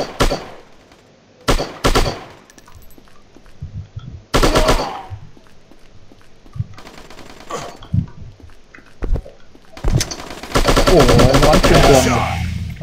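Enemy gunfire shooting through walls in the shooter game Striker: several sharp, loud bursts of automatic fire separated by quieter gaps with faint clicks, ending in a sustained, dense stream of shots at the close.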